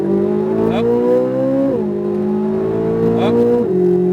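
A Corvette Z06 accelerates on a racetrack, its engine revving up through the gears with two clear upshifts where the pitch drops and climbs again, loud and close from the cabin.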